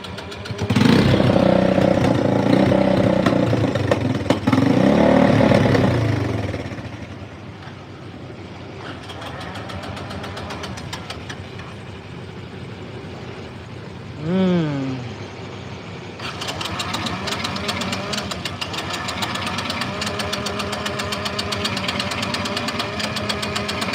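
The engine of Big Red runs roughly on choke, loud and uneven at first, then drops to a quieter, steadier running with a brief rising rev partway through.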